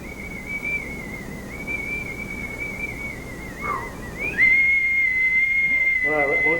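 A whistle driven by gas boiling off liquid nitrogen gives a loud, steady high-pitched tone that wavers slightly in pitch, dips briefly, then resumes strongly and continues through the end, with faint voices under it.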